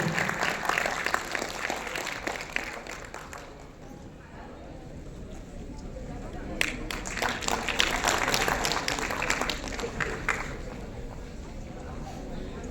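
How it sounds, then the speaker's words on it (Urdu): An audience claps at a student honors ceremony, with steady, dense applause that keeps going throughout and swells near the middle as a crowd of people applauds together. "ہم تالیوں سے ان کو بدھائی دیں گے۔"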